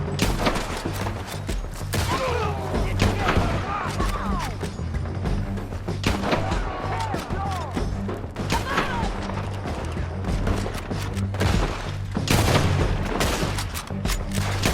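Gunfire in the Red Dead Redemption 2 video game, repeated sharp shots crackling in irregular bursts over a rumbling background, with shouting voices in between.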